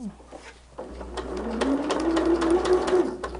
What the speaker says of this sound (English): And we're going to sew all the way around.